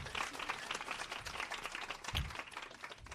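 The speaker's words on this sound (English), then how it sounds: "let's give it up one more time for the person who has been driving the change in our organization, Emmy award-winning producer, Jackie." An audience at a live founder event gives warm applause, with dense, continuous clapping from a crowd and some faint voices mixed in.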